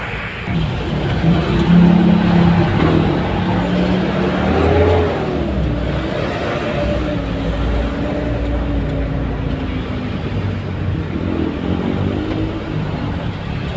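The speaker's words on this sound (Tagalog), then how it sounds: "Traffic oh." Loud road traffic streams by, with engines droning and revving as vehicles pass close, a steady broadband roar with shifting engine tones running throughout.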